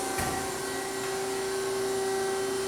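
A Hem automatic horizontal bandsaw raising its blade gives off a steady, moderately loud mechanical hum with a constant tonal drone and a faint click at the start, with no voices.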